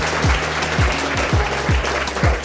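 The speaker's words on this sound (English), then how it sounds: "give my guests a round of applause" Applause for guests at a book signing event in Atlanta, a steady bed of clapping with repeated deep thumps pulsing underneath at a regular beat.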